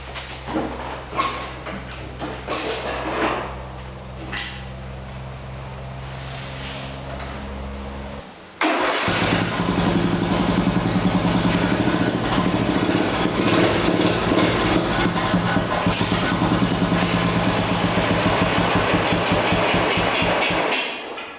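A small flathead Briggs engine fitted with a 26mm Mikuni carburetor idles with a low chugging rumble and some knocking, then suddenly revs up into a loud, steady, rapid roar that continues to the end.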